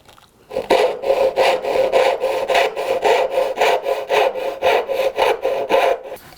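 A hand saw cuts wood for dovetail joints in steady, rhythmic back-and-forth strokes, about a dozen close, loud rasping passes after a short quiet start.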